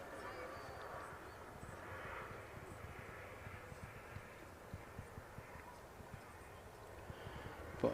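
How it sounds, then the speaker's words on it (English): An EasyJet airliner from Belfast touching down at Manchester Airport, its engine roar faint and distant as a steady wash, with scattered small clicks over it. "that's EasyJet just touching down from Belfast"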